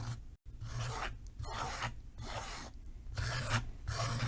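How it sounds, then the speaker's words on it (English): A thin setting knife scraping paint for dot painting, repeated rhythmic rasping strokes with short pauses between them, close and steady, no talk. "So you scrape it up and scrape it this way."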